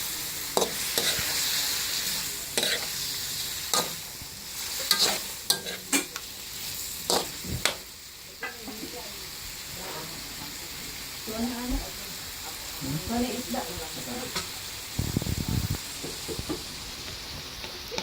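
Chicken adobo is stirred in a frying pan with scraping, clattering utensil strokes over a steady sizzle, and a voice talks briefly between the stirs.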